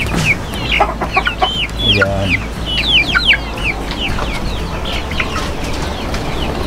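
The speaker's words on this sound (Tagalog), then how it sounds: "So ito, mga growing 4 months old na mga Rhode Island Red." Rhode Island Red chickens about four months old cluck and chatter in a busy, close flock, with quick overlapping calls throughout and a brief spoken word partway through.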